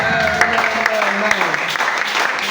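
Church congregation applause and cheering fill the space during a worship service, with voices mixed in throughout and no quiet breaks.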